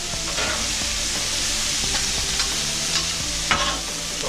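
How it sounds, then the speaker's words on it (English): Onions, mushrooms and peppers sauté in a pan over medium-high heat, producing a constant close sizzle. Repeated stirring scrapes and one sharper clank near the end sound over it, with no speech. "I want these onions and mushrooms and peppers to be good and sauteed, real soft"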